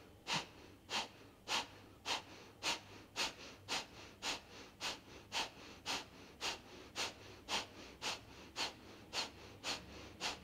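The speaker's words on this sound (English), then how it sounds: "Breathe all the breath out through both nostrils. Take a breath 3/4 of the way in. And here we go, Kapalabhati." Kapalabhati yogic breathing, rapid forceful exhalations pumped out through both nostrils in a steady rhythm of about two per second, close and clear, with no talking.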